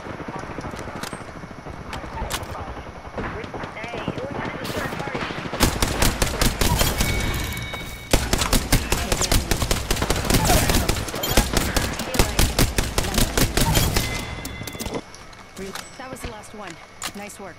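Gunfire in the battle game Apex Legends rattles in dense rapid bursts and long automatic volleys, loud and close, with game character voices calling out over the shooting.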